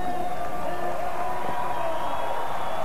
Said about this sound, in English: Listen to this crowd at Madison Square Garden cheering on the hometown favorites, the Eastern Express, over the Midwest Pioneers